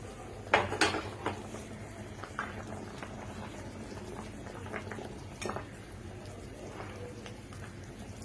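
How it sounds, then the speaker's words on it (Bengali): Rohu fish gravy (doi rui) simmering in a pot, a faint steady bubbling with soft pot and utensil clinks and a few small taps near the start, quiet and continuous with no talking. "এভাবে ফুটতে ফুটতে মাছগুলো আমি আস্তে করে ছেড়ে দিলাম"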